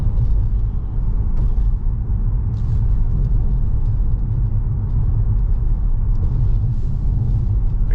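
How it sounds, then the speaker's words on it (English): A 2013 Ford Explorer police SUV being driven, heard as a steady low engine and road rumble from inside the cabin, continuous and even with faint light ticks above it and no speech. "Very smooth running vehicle."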